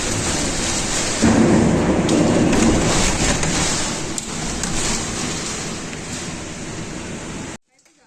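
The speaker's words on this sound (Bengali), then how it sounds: "বৃষ্টিটা শুরু হয়ে গেছে, তার সঙ্গে হচ্ছে প্রচণ্ড ঝড় এবং শিল পড়ছে, শিলাবৃষ্টি হচ্ছে" Heavy thunderstorm with strong wind, driving rain and falling hail: a loud, dense roar of rain and wind runs steadily, swelling into a deeper rumble partway through, then cuts off abruptly near the end.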